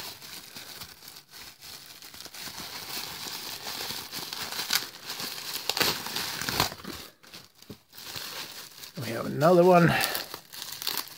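Sticky bubble wrap crinkles and tears away from a Tamron 28-200mm AF-D camera lens package, steady close-up rustling with a sharper ripping burst near the end, while someone talks over it.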